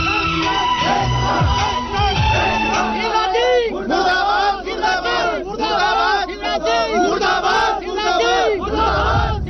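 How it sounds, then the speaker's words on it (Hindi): Angry crowd marching in a farmer's funeral procession in Mandsaur, Madhya Pradesh, loudly chanting slogans in rhythmic repeated shouts, with a band audible at the start. "आक्रोश से भरी भीड़ शव यात्रा में नारेबाजी करती चल रही है।"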